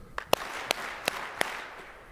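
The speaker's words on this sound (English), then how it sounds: "Clap 4 times if you're willing to join your peers and say so." A conference keynote crowd at GreenBiz 24 answers with four unison claps, sharp and evenly spaced, preceded by a few scattered early claps, over a quiet hall.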